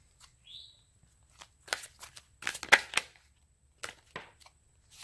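Quiet, scattered bursts of tarot cards being shuffled and flicked, several short rustles separated by silent pauses, with a faint chirp near the start.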